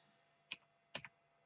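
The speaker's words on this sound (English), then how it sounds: "So now typing." A few soft, faint clicks of typing on a computer keyboard, two separate keystrokes with a quick double tap at the end, set against a quiet steady background hiss.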